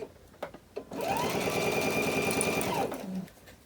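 Sewing machine stitching across the top of an elastic closure bag, one steady close run of about two seconds with a whirring motor, starting and stopping abruptly after a few faint handling clicks.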